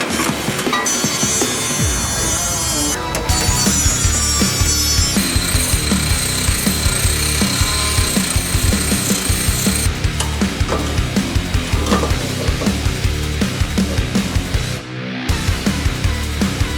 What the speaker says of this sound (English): Good thing I got the little drill.